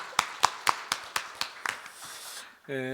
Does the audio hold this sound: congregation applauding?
yes